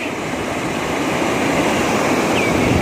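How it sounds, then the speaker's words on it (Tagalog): River water pours over a mini dam in Masantol, Pampanga, swollen to a very high level: a loud, steady roaring rush of broadband water noise, close and continuous, with no talk. "Nag-overflow. Ah, sobrang laki ng tubig."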